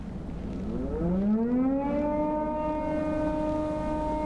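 A civil-defense-style siren in the horror video game Don't Scream winds up from low to a loud sustained wail, rising in pitch over the first two seconds then holding steady.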